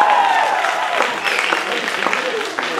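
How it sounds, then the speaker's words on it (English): An audience at a dry grad event claps in a short burst of applause, dense and close, with a voice talking over it. "big round of applause"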